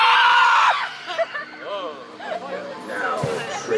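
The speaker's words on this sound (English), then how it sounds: "all scream as loud as you can" A crowd at a Halloween farm event screams loudly together in one burst, then breaks into scattered yells, laughter and chatter nearby.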